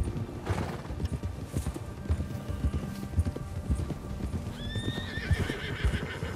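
Horses gallop in Red Dead Redemption 2, rapid rhythmic hoofbeats pounding close and loud, with a horse whinnying near the end.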